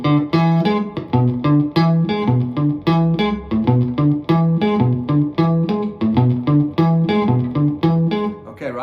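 A distorted electric guitar plays a repeating, bouncy pentatonic riff over a Latin groove, short punchy notes thick with effects, steady and loud throughout.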